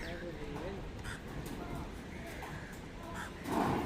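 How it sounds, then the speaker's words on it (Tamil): Several crows caw in short bursts over steady outdoor background noise in Jaffna. "நிறைய காகம் வந்துட்டு இப்ப"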